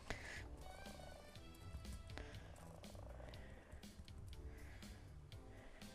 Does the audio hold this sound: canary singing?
no